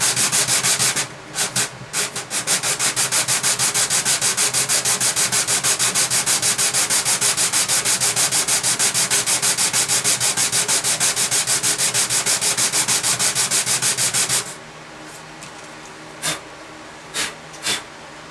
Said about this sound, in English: Now this sandpaper I'm using is 120.